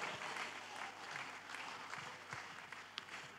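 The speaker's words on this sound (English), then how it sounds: "Clap your hands and worship God." A church congregation clapping together during Sunday worship in a large room, a continuous wash of applause with faint voices mixed in, heard from a moderate distance.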